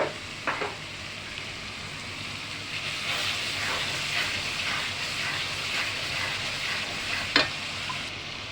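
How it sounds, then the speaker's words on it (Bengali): Chicken roast masala with tomato sauce, salt and a splash of water is stirred and sautéed in a pan: a steady sizzling hiss with occasional scraping strokes of the spoon, close by and with no voices. "একটু পানি দিয়ে কষাইলাম"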